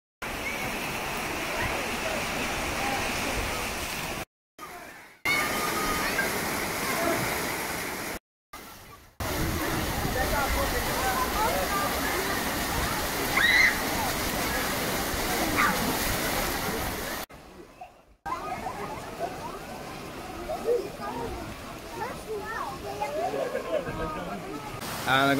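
Water splashing and sloshing at a water park, a steady broad wash continuing for most of the stretch with a few short dropouts, near and fairly loud.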